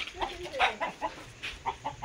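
A rooster clucks at home in short, repeated bursts. The sound is faint and alone, with no talk.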